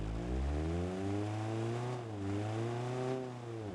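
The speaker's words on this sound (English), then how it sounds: "let's drive this thing around now, shall we?" A 1940s rear-engine, front-wheel-drive car with a steampunk look drives along with its engine humming steadily, rising slightly in pitch and easing off, moderately close and without talk.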